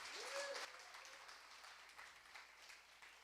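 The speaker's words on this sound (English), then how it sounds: "Another round of applause for Gerardo and what he's doing over here." Another round of crowd applause for Bitcoin Berlin cofounder Gerardo Linares at his opening remarks, a soft, fairly distant patter of clapping with a brief tonal sound at the start, gradually settling.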